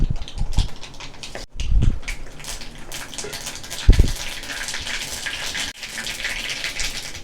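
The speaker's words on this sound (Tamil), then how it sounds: "இப்போ இது குழம்புக்கு நம்ம கடுகு போட்டு தாளிச்சிடுவோம்." Mustard seeds splutter and pop in hot oil while being tempered for a green gram kuzhambu, giving a dense, crackly sizzle with a few louder bursts.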